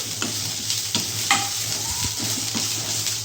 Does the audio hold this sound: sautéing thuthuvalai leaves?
yes